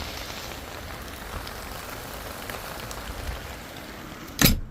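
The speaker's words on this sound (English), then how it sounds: "So it's still raining fairly heavily." Heavy rain from Cyclone Jasper falls in a steady, close hiss, with a sharp brief knock or clatter near the end, and no voices.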